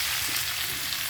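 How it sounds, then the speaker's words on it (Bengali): Potatoes fry in a pan with turmeric, giving a steady, close sizzle that hisses evenly for about a second with no voices. "দেখো আমি এই আলুটা ভাজছি"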